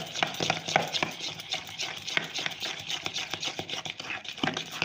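Mawa cake batter with baking powder being stirred in a bowl, a close rhythmic series of spoon scrapes and soft clacks repeating steadily without any talk.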